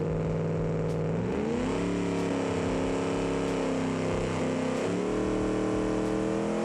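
A car in the BeamNG racing game launches off the trans brake on a half-throttle pull, its engine revving steadily through several rising gear sweeps in a continuous loud drone.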